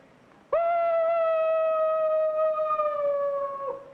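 A man imitates a wolf howl, one long, steady, clear tone that starts abruptly, holds for about three seconds with a slight downward drift, then fades, loud and close.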